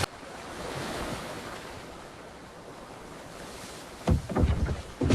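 Stormy wind and raging lake water heard as a steady roar of surf-like waves and gusts, with heavier surges of water near the end.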